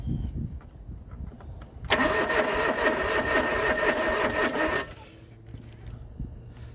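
A John Deere 445 garden tractor engine cranks hard for about three seconds, a loud, close, rough whirring grind of the starter that stops abruptly without catching, followed by quieter shop noise.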